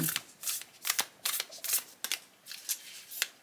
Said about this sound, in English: All right, so these shuffle nicely.